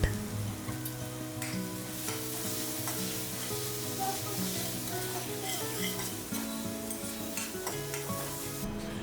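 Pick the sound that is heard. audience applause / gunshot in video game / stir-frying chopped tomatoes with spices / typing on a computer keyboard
stir-frying chopped tomatoes with spices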